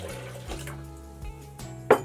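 Purified water pours into a blender for a healthy nacho cheese sauce, a soft continuous splash with low gurgles, ending in a brief louder splash.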